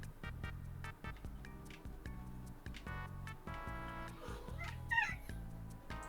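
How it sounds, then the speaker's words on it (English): A house cat named Katana gives a few short meows, faint and somewhat distant, under the steady chiptune music and effects of a Pokémon Leaf Green game. "Heard who? A kitty?"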